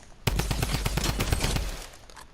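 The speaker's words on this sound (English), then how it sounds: "So you got 50 bullets in the magazine on a drum gun." Drum gun firing in the video game Fortnite, a rapid burst of roughly a dozen sharp close automatic shots in quick even rhythm, trailing off into a short fading echo.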